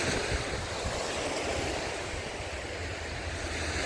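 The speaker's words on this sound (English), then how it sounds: "So I'm right here at the beach." Surf rolling in steadily at Woodbine Beach, a broad continuous wash of waves with wind noise buffeting the microphone throughout, no voices.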